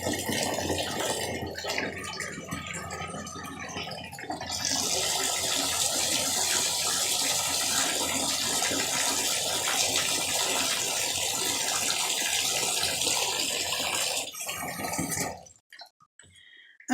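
Water gushes from a tap into a bathtub with a bubble bar, a steady loud rushing pour that fills most of the stretch before cutting off, leaving a few drips and near silence.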